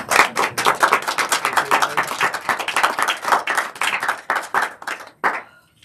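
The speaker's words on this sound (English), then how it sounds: "So let's give them a good applause." Audience applause at the close of a panel event on artist residencies, a brisk burst of clapping from a modest crowd that builds quickly and then tapers off abruptly near the end.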